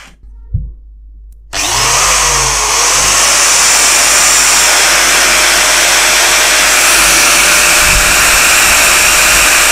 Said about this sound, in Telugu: ఇప్పుడు ఈ యాంగిల్ గ్రైండర్ని అయితే దీన్ని పెట్టి అయితే టెస్ట్ చేద్దాం.